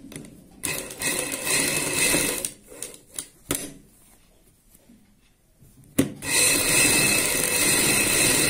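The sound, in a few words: sewing machine stitching fabric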